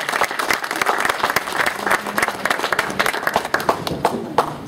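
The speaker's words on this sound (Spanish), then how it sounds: "¡Fuerte los aplausos!" An audience at a rural community event in Santa Cruz de Cocachacra claps steadily after an official is introduced, a dense, close round of applause lasting throughout without talk.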